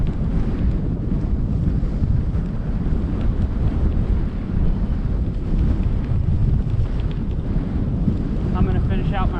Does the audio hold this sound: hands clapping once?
no